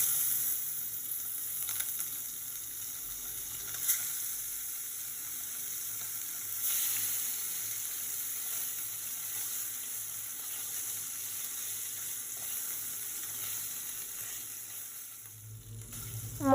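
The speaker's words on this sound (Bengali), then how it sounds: "এবার মাছগুলো দিয়ে দেব।" Parshe fish fry in hot mustard oil in a karahi, producing a steady, fairly quiet sizzling hiss that continues evenly throughout, with no talking.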